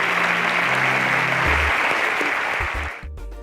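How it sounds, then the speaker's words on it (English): Loud, dense audience applause at a semi-final contest show as contestants leave the stage, a steady wash of clapping that holds for about three seconds and then thins out toward the end. "A round of applause for them as they exit the stage"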